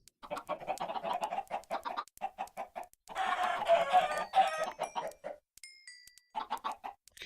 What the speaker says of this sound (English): I've still got a whole bunch of chickens left.